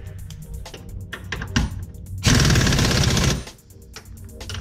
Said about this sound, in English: I'm going to use an impact on these.